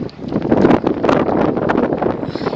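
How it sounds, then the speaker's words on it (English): Gusty wind buffets the microphone in low, rumbling bursts that rise and fall continuously, close and fairly loud. "It's so windy today."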